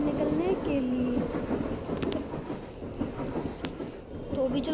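Trains rolling toward a railway junction in the Indian Train Crossing 3D game: a low rumbling rail drone with rising and falling horn-like tones and a few sharp clanks, moderately loud, with a voice talking over it.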